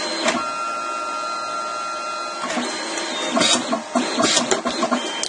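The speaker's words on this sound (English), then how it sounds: "About 20 seconds to print, 15 seconds to spool" A Mitsubishi CP-K60DW dye-sub photo printer runs steadily at close range, a continuous mechanical whir with sustained tones, then turns busier near the end with clicks and shuffling bursts as the print feeds out.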